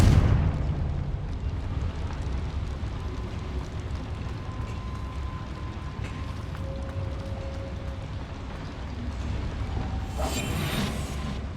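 Bombarda and Confringo explosion spells in Hogwarts Legacy on PS5 produce a deep, sustained rumbling blast that fills the stretch, with a sharper burst flaring near the end.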